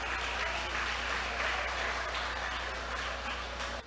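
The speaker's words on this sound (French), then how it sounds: "Je vous demande de l'applaudir," Audience applause at a beauty pageant final, Miss USB 2016, a dense continuous patter of clapping that holds steady and then cuts off abruptly at the end.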